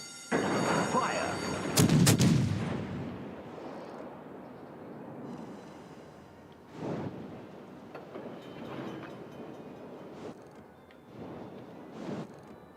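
Naval guns fire a loud booming salvo in World of Warships, followed by several fainter distant thuds and rumbling over a steady low background.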